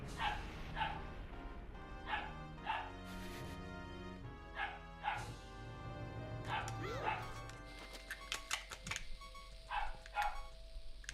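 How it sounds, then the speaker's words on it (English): Loud dog barking in repeated sharp bursts through the clip, with a person talking over it and other background sound underneath. "This dog is so loud, dude."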